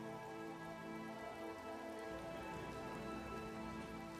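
Steady rain patters on surfaces during a heavy storm in Los Angeles, a faint, even wash of drops with no voices.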